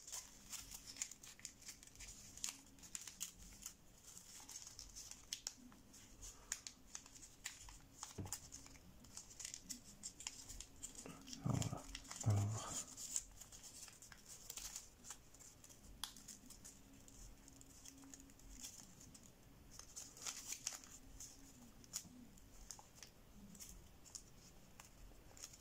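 Sheet of origami paper being folded for a goldfish model, soft crinkling and creasing rustles close by, with a firmer crumple near the middle and light handling noise throughout.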